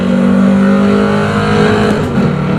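Corvette C7 Stingray engine in Assetto Corsa, droning loud and steady at high speed in a tall fourth gear, a continuous harmonic roar with no talk over it.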